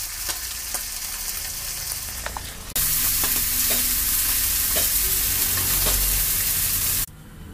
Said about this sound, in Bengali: মাছটা ভাজা হচ্ছে, তোমরা দেখতে থাকো।